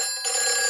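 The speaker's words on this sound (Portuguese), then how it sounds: "Peppa, esse é o telefone do bombeiro" Fire station telephone in a Peppa Pig cartoon starts ringing abruptly, a bright electronic bell tone, brief and loud with no talking.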